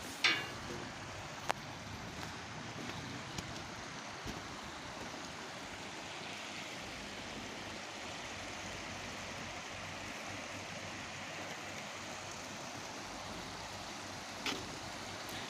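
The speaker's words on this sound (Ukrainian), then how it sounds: "Я так розумію, це річка Прут." Steady broadband rush of the Prut River flowing beneath a bridge in Vorokhta in winter, continuous and fairly close, with no voices and only a couple of faint clicks.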